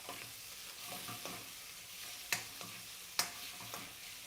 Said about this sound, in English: So now we're going to put the garlic and ginger.